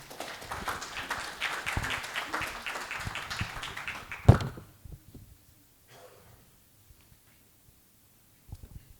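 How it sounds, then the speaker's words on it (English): Audience applause at a green power forum in Eswatini, a dense round of clapping that fills the first four seconds, ends in a sharp final clap, then fades into near silence with only faint scattered sounds. "please give a round of applause to Dr."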